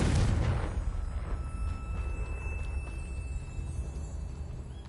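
A Confringo spell explosion in Hogwarts Legacy, a loud booming burst at the start that decays into a long rumbling tail, with faint scattered clinks and a thin tone lingering afterward.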